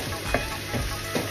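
Tomatoes cook in a hot pan for a squid dish, giving a steady close sizzle and frying hiss with a few soft stirring scrapes.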